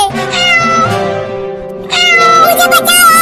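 A cartoon cat lets out long, drawn-out meows, loud and nasal, with a brief pause before a second wailing meow rises over faint background music.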